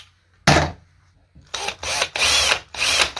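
A power drill bores into the chassis of an Arrma Vorteks RC car in several loud, whining bursts, each separated by short pauses. The drilling starts after a brief quiet stretch.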